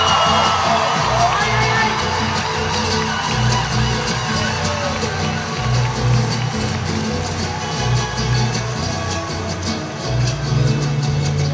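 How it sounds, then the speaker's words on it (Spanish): A large concert crowd at a live show in Aguascalientes roars with cheering, whoops and shouts over low rumbling stage sound, a loud continuous wash lasting over ten seconds with voices calling out within it. "Un fuerte aplauso para el mariachi"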